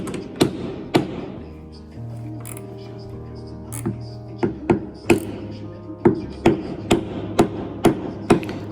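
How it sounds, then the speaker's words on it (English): A rubber hammer drives steps into a sailboat's stern bathing platform, with sharp, close knocks that come sparsely at first and then settle into a regular run of blows over a faint background hum. "used the rubber hammer"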